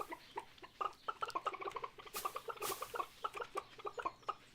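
A flock of chickens in the Stardew Valley video game clucks in quick, overlapping bursts, a busy near chorus of short pecking calls with a couple of brief noisy swishes partway through.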